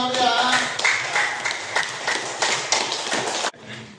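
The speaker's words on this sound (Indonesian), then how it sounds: "tepuk tangan dulu yang menang ya" A group claps for a few seconds, scattered and uneven, fairly close, then the clapping stops abruptly with some voices underneath.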